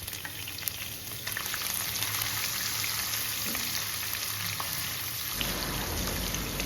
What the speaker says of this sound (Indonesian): Goreng terinya hingga matang atau agak kering sedikit ya.